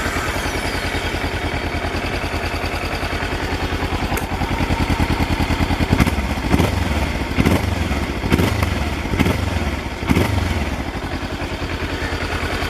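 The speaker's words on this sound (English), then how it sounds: "Sounds very Kawasaki parallel twinish, very much like a parallel twin." A 2017 Kawasaki Versys-X 300 parallel-twin motorcycle engine runs steadily close by at idle, then gives several sharp throttle blips in a row, each rev rising and falling back to idle.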